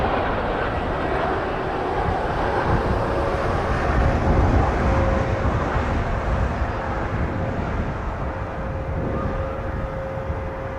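A jet airliner roars steadily on takeoff at Toronto Pearson airport, a loud, sustained engine rumble with a faint whine running through it, no voices.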